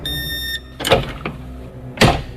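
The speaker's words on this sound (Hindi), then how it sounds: "दरवाजे की आवाज एक बार फिर से आई" A door sound effect in a Hindi horror story: a few sharp, resonant thumps and creaks, clear and fairly loud, spaced out over a moment with no voices.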